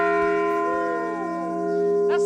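A large bell rings out with a loud, sustained metallic hum that resonates and slowly decays, with a fresh strike near the end.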